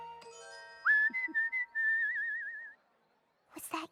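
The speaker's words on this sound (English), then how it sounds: "I love whistling while I work." A cartoon pony whistles a bright, wavering tune at work. Several sustained notes slide and trill, close and clear, then a short pause and a brief burst of other sound near the end.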